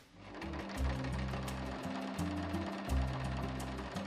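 A sewing machine in a Calgary warehouse clothing workshop runs in steady bursts, its rapid mechanical stitching chatter close and loud, pausing briefly between runs.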